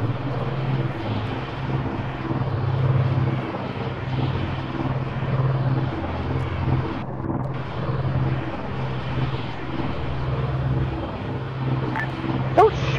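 A propeller aircraft drones steadily as it comes in to land in a video game aviation exercise, a loud continuous engine hum with a low throbbing tone, and a brief voice and click near the end.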